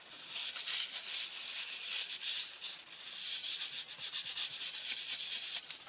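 Kitchen roll wipes up spilled liquid on a work surface while sugar flowers are being made, a soft, close, continuous rubbing and scuffing with brief pauses and no talking.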